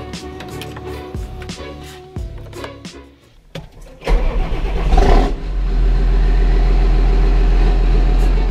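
A John Deere 7530 Premium tractor engine cranks and fires up around the midpoint, then settles into a loud, steady diesel idle after a brief rev, following quieter mechanical clatter.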